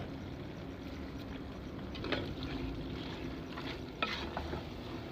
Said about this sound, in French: Et brasser de nouveau